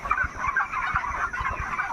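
A flock of fully grown chickens clucks steadily inside a poultry farm, many overlapping calls forming a continuous close chorus with no talk.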